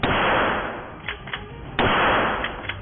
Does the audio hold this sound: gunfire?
yes